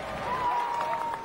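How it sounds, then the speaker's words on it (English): A crowd outside the Odeon Cinema cheers and applauds at a gala evening in light November drizzle, a continuous wash of clapping and crowd noise at moderate distance. "The crowd cheers, their spirits undampened by the light November drizzle."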